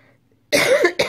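A sharp, harsh cough bursts out close to the mic, followed quickly by a shorter second cough, from a person with a hacking chest cold.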